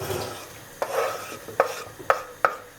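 Two large onions dropped into a hot pan for a meatless Turkish dry-bean stew, cooked without butter or margarine: a close, continuous sizzle broken by a few distinct clunks or scrapes about every half second, with no voices.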